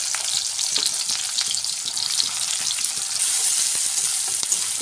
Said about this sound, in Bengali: কুচানো পেঁয়াজটা ভালো করে ভেজে নেব।